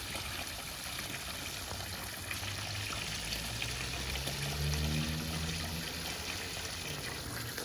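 Aquascape BioFalls sheet-style pond waterfall running in a backyard, a steady, continuous rushing and splashing of falling water that stays even and fairly close throughout.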